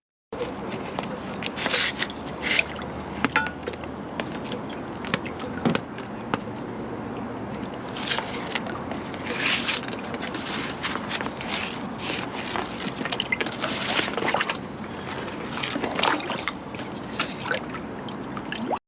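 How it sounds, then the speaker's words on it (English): A 4-inch plunger disc on a long rod works a blocked manhole drain, giving steady sloshing, gurgling water and repeated thumping plunges close by, with continuous wet churning throughout. "we're going to use our 4-inch plunger disc on a long rod and we're just going to give it a bit of a plunge"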